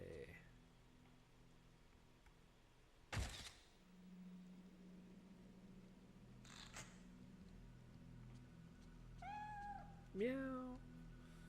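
A cat meowing in the PS2 horror game Fatal Frame III: The Tormented, with a couple of rising meows near the end after a thump and quiet ambient hum earlier.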